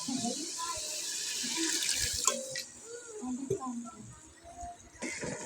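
Water runs and pours into a cooking pot while aloo daal is being made, a soft continuous hiss and trickle with small splashes and light kitchen clatter, fairly quiet, with faint voice sounds in the background.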